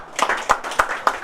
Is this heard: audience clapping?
yes